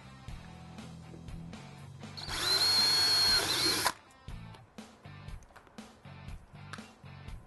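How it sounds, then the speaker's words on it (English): A power drill whirs loudly and steadily for about a second and a half, drilling a pilot hole in a golf cart panel, rising above quieter handling clatter and taps. "we're going to drill a hole, pilot hole in the corner."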